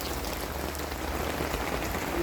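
Rain falling steadily across rice fields, a dense, even hiss of drops on surfaces, close and continuous with no voices.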